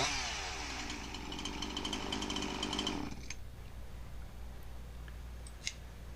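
A Husqvarna 346xp chainsaw runs after a base gasket air-leak repair, buzzing loud and close at high revs for about three seconds, then dropping to a steady idle with a faint click near the end.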